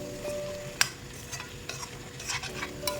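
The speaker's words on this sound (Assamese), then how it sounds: "ধুনীয়াকৈ এতিয়া মছলাখিনি মিক্স কৰি ভাজি ল'ব লাগিব" Spice masala with ginger and garlic frying in a pan for a local chicken curry, a quiet sizzle with a sharp utensil clink and several soft scraping stirs over a few seconds.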